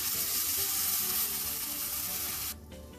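Paneer sizzles steadily in a hot pan for a paneer and vegetable biryani, a loud broadband hiss that holds for a few seconds before dropping off sharply near the end.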